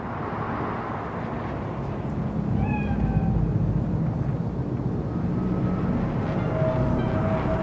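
A cat gives a couple of short meows in the middle of a steady low city drone in the video game Cyberpunk 2077, with a faint tonal call near the end.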